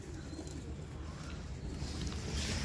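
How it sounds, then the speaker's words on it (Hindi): Slate-grey Scorpio breed pigeons from Multan coo softly and continuously against a steady low background hum, with the calls blending into a gentle, rumbling murmur throughout. "ये उनके स्कॉर्पियो ब्रीड हैं और माशाल्लाह स्लेटे कबूतर हैं"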